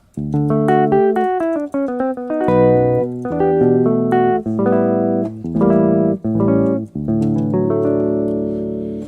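Dry guitar patch on a Yamaha PSR-style arranger keyboard with no effects, playing a melodic solo line of sustained, bending notes, loud and close, with brief gaps between phrases.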